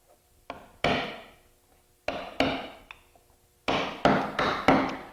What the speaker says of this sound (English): the next step now is to start the roughing in. I'm going to be using a number 7 by 16 millimeter gouge for this